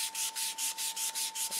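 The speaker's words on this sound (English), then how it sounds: "Just a light sanding." Light sanding of paint on a control-line stunt model plane with 320-grit sandpaper on a block makes eight quick, even rasping strokes in a steady back-and-forth rhythm, close and alone.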